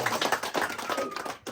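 Guests at a Kyrgyz family celebration for an 80th birthday clap briefly together after a toast, a quick burst of scattered hand claps mixed with some talking.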